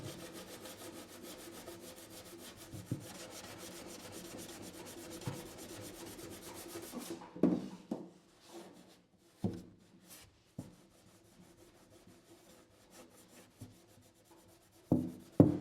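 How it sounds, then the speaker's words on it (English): Hand sanding with a 120 grit sanding block on a small test boat, a rapid scratchy rasping stroke repeated for about seven seconds, then scattered knocks and handling sounds with quiet gaps. "So now I'll use a 120 grit sanding block and just sand this up."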